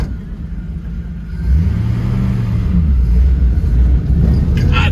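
A 1965 Ford Mustang with an inline-six 200 and a T5 five-speed without synchros is shifted, its engine rumbling low and then rising in revs as it pulls into the next gear, close and loud.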